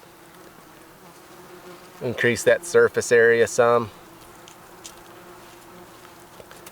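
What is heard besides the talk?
yellow jackets and flies buzzing around jerky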